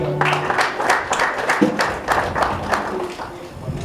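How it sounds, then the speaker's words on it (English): A crowd applauds at a poetry book launch in Malawi, a steady wash of clapping that keeps going for several seconds, with some voices mixed in. "A round of applause for Mashalo, please."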